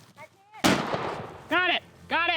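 A single loud, close shotgun blast fired at ptarmigan during an upland hunt with a dog, an abrupt crack with a rumbling tail, framed by excited shouting before and after.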